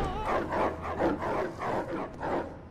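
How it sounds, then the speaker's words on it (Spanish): Cerberus, the three-headed dog in LEGO Harry Potter, barking and yelping in a run of about five close, loud bursts. "El perro de tres cabezas. El cancerbero."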